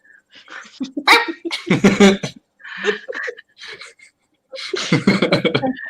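Jasper the dog lets out bursts of squeaky, high-pitched barks and yips, loud and close, broken by brief pauses.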